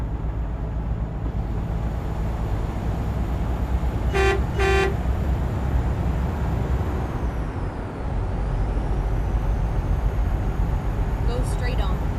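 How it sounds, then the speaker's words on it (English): A truck horn gives two short, loud toots in American Truck Simulator, followed later by a brief hiss of air brakes, over a constant engine drone on the highway. "Listen to the truck."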